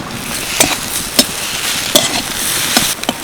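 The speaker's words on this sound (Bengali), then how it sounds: "সুজির পুরটা নেড়ে চেড়ে রেডি করে নিলাম" Semolina filling for chandrakola sweets being stirred in a pan with sugar and milk powder: a soft continuous scraping hiss with several sharp spoon clicks against the pan, fairly close and steady, with no voices.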